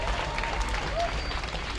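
Hands clap across a gathered crowd at a memorial victims' association event, a continuous, fairly even wash of applause with faint voices mixed in.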